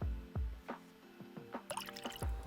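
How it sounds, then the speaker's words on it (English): Water poured in small amounts into a Poppin Cookin hamburger candy kit container, producing a rhythmic series of close, bright plinking drips and gurgles, about eight in quick succession, quiet and alone. "let's go ahead and fill it up with water real quick"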